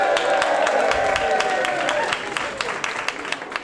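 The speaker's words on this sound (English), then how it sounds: "Let's make some noise for The Gathering." An audience at The Gathering claps and cheers loudly, with dense applause that thins toward the end into scattered individual claps and shouts.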